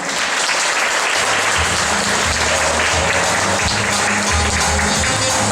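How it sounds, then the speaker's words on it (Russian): Audience applause for participants at a children's school patent award ceremony in the Komi Republic: dense, sustained clapping from a large crowd, loud and even throughout. "Эти аплодисменты для вас."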